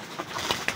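Racing pigeons cooing softly while they feed, a few brief, low murmuring coos close by over a quiet background.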